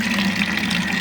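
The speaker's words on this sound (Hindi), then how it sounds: "यहाँ मैंने थोड़ा पानी डालना था, पानी मैंने बाहर ही सारा ज़ाया कर दिया।" Water pours in a loud, steady gush with a low pumping hum beneath, close and continuous for the whole moment.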